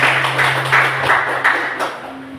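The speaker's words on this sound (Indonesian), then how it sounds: "Oke, tepuk tangan." A classroom of students claps together at a school in Papua, a fairly loud, steady patter of applause with a few pulsing swells, a low hum running beneath.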